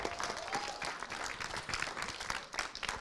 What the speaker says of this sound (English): give Wileen a big round of applause